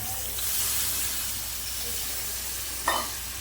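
Fried goat liver crackling in a hot pan, a steady hiss with a brief burst near the end as water meets the hot metal, then the sizzle settles.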